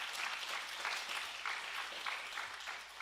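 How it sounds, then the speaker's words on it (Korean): A church congregation claps together in a steady, fairly faint round of applause during a Sunday worship service, with no talking over it. "하나님께 격려의 박수를 하겠습니다"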